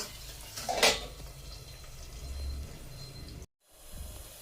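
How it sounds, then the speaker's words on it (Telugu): A lid goes onto a pan of bitter gourd curry left to simmer, landing as one clear metallic clink near the start, followed by a low steady bubbling hiss with no talk. "కొంచెం సేపు మూత పెట్టి మగ్గిస్తాను."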